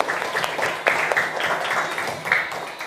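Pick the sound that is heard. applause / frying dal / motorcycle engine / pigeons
applause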